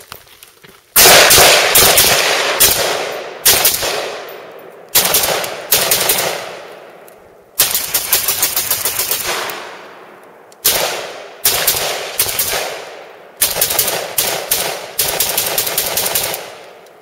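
Vector Arms AK47 underfolder rifle firing outdoors in rapid bursts of several shots each, loud and close, with short pauses between the strings and no talking.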